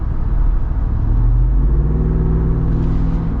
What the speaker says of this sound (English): But it doesn't sound like a regular Wrangler.